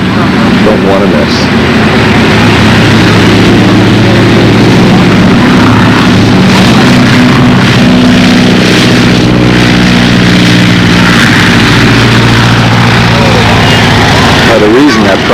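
A model aircraft engine at a flying contest in Hampton, Maryland holds a loud, steady drone at about 2,500 RPM, partly buried under rough wind noise.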